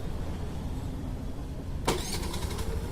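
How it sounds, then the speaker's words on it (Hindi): A Honda Activa 5G scooter engine cranks and catches at once, then runs on at a steady idle after a stretch of quiet background hum. "और ये हम गाड़ी स्टार्ट कर देते हैं, ऑन है,"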